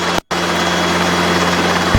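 A Robinson R22 helicopter running on a helipad, its engine and rotor making a steady, loud drone with a fast throbbing beat and a brief dropout near the start.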